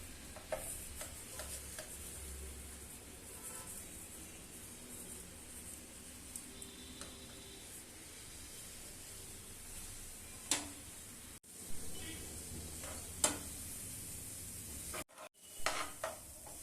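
Sesame seeds are stirred into boiling jaggery syrup for sesame balls, with soft scraping and bubbling at low level, sporadic spoon clicks and a couple of louder knocks against the pot near the end.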